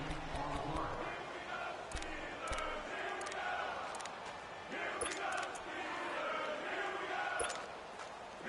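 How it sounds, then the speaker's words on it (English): Crowd noise in a PS4 American football game ahead of a big third down: a steady, faint roar under the commentary, with scattered sharp clicks and taps. "the crowd getting into it as we come up on a big 3rd down"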